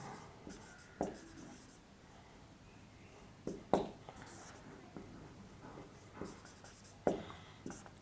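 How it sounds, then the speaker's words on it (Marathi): Marker scratching on a board in blue ink, a few distinct sharp strokes spaced apart with quiet pauses between, near and fairly soft, under light faint murmuring. "इथे लिहितो मी ह्या ब्ल्यू कलरमध्ये"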